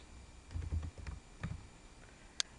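Soft, scattered taps from a computer keyboard while entering data into a Microsoft Excel spreadsheet, with one sharper click near the end; close and quiet, no voices.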